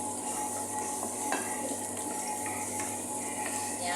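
Garlic fries in a pan for chicken stopado, giving a soft, constant sizzle with a few light clicks and stirring taps over a low background hum.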